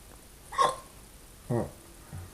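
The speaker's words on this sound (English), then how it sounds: "Baby, you have the hiccups." A baby hiccups three times in small, soft bursts spaced about a second apart, quiet and close, with faint background hiss between them.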